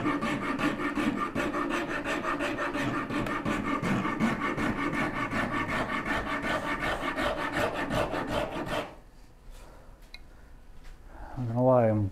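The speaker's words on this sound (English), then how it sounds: "I'm glad I got a left-hand stitch rasp" A left-hand stitch rasp files wood on a Shaker Enfield cabinet in quick, regular back-and-forth strokes for about nine seconds, then stops, leaving quiet workshop sounds and a voice.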